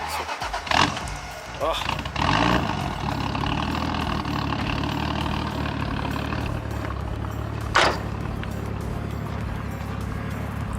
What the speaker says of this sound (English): You gotta hear the exhaust for the one time.